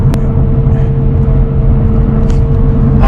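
A BMW sports coupe drives with its windows up, its engine giving a loud, steady low rumble and drone inside the cabin throughout, with no talk.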